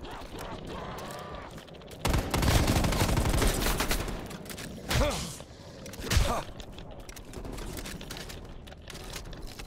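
Bursts of rapid gunfire ring out in a zombie survival video game, loud clusters of shots with sharp single cracks between them over a constant game background.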